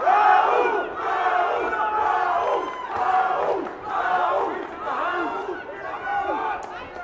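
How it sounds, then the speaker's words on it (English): Spectators at a professional boxing match roar and chant in loud, rhythmic surges, voices rising and falling in repeated waves that fill the hall. "I hear you hear the crowd."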